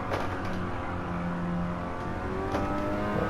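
A Mazda RX-7 FC in Gran Turismo 7 revs hard under full throttle, its engine a continuous rising whine that holds loud and steady throughout with no talking.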